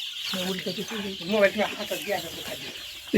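Chickens clucking close by in a busy cluster of short, repeated calls, with a sharper sound at the very end.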